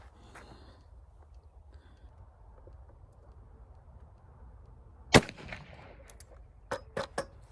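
A single sharp gunshot from a Ruger Blackhawk .45 Colt revolver firing a full wadcutter bullet in an outdoor test stands out against quiet background hum, followed by a few lighter clicks and knocks.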